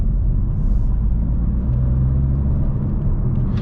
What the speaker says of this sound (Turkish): Ancak motor sesi fazla arkadaşlar. Motor sesi bana fazla geliyor.